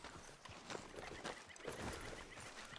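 Horse hooves clip-clop in a steady trotting rhythm as a rider travels in Red Dead Redemption 2, quite faint and distant, with a brief whinny-like sound and no talk.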